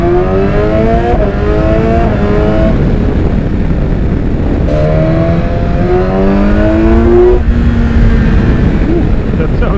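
A BMW S1000XR motorcycle fitted with an Akrapovic exhaust revs loud and close, its pitch climbing in repeated surges and dropping between them, with wind rushing steadily underneath.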